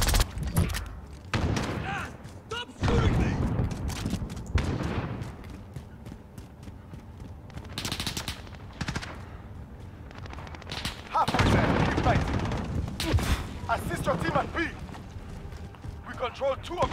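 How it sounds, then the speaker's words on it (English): Rapid bursts of gunfire in Call of Duty: Modern Warfare on the Hovec Sawmill map, sharp cracks stacking into dense volleys with heavy stretches of fire, under in-game radio voices and a player talking. "Stop shooting me!"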